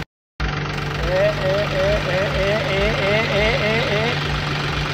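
A tractor engine idling with a steady low drone and a rhythmic warbling knock as gears are shifted, close and constant, with people talking over it.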